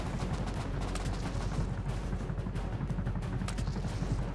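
Sustained gunfire from a helicopter in the Rust video game, a dense, continuous rattle of rapid shots at steady loudness throughout, with no talking.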